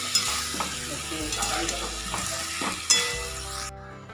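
Cauliflower and potatoes fried in a pan under steady stirring: a continuous close sizzle with repeated scraping strokes of a spatula and a low hum beneath, ending abruptly.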